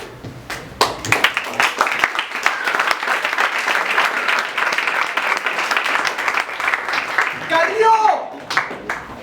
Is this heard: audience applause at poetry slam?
yes